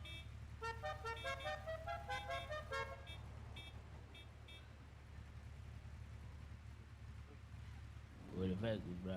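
A series of horn toots blares near a road with motorbikes and other traffic, repeating for a few seconds before fading into low engine rumble. Voices are heard briefly near the end.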